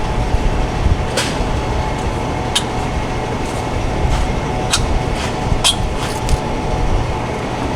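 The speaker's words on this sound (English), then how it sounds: "If you hear a roaring, humming sound, that would be those fans up there" Large workshop fans roar and hum steadily in a hot shop, making a broad, constant rushing drone with a few faint clicks and knocks on top.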